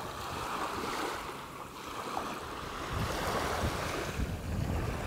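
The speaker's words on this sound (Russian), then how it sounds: "В данный момент, видите, штормит. Немножечко, ну, небольшие волны" Stormy sea surf washes onto a sandy beach on Thasos, Greece, with small waves breaking in a steady, continuous wash and gusty wind buffeting the microphone throughout; no talking.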